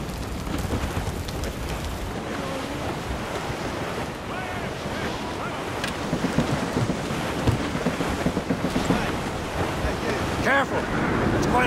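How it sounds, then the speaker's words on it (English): Stormy open sea from Assassin's Creed, with heavy waves surging and crashing around a sailing ship while strong wind roars across the microphone, steady and loud throughout, growing rougher toward the end. "It's quite a rough squall"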